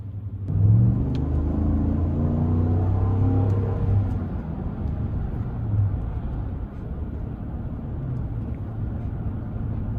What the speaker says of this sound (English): Man, that exhaust sounds good, I can't lie.